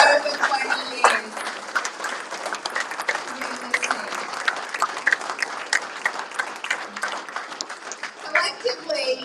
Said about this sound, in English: a big round of applause for all of the people in this room